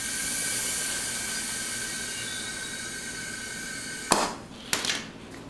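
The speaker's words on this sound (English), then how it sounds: "Now we'll get some air back in this." A compressor hose pushes air into a tire after its bead is seated, giving a steady loud hiss that stops with a sharp click, followed by two brief bursts of air.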